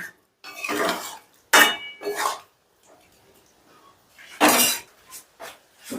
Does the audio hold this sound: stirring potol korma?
yes